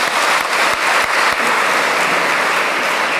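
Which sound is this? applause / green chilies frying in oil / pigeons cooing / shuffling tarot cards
applause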